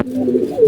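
A single short, loud pigeon coo from a racing pigeon, close by and alone, rising slightly at the end.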